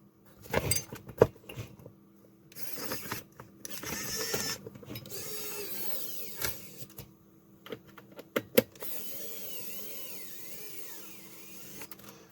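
Screws being driven into small brackets to close up a rebuilt DC electronic load case: quiet irregular clicks, scrapes and ratcheting bursts close by, with short pauses between them.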